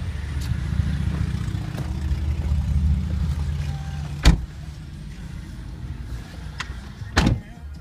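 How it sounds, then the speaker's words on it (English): Interior of a black 2012 Chevy Malibu on a short test ride, with a steady low road and engine rumble throughout and two brief sharp clicks or knocks partway through. "Let's take you on a short test ride."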